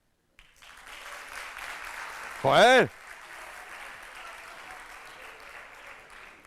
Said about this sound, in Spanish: es un aplauso España campeón mundial de nuevo de fútbol